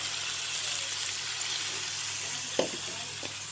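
Water poured into a hot pan of pasta sets off a steady, loud sizzle and hiss, with a few clatters of the pan near the end.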